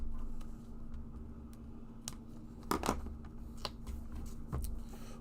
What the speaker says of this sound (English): We'll just use my scissors.